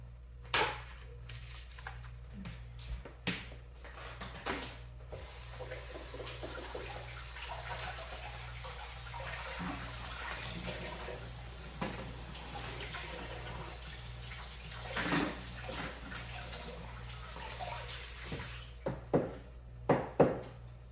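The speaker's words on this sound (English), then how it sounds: "Go ahead and rinse the potatoes real fast and the cutting board." Tap water runs steadily into a kitchen sink while potatoes and a cutting board are rinsed, a soft continuous splash with occasional louder clunks and knocks near the end over a low steady hum.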